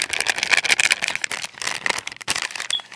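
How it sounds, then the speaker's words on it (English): Lots of small hard heart-shaped pieces poured onto a tray, making a dense, continuous rattling clatter up close for a few seconds. "I'm just going to kind of pour them out here on this tray."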